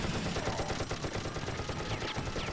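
Dense battlefield gunfire in a competitive online shooter match, a steady rattle of rapid shots and booms close and loud, with mortar fire amid the continuous barrage and no talk.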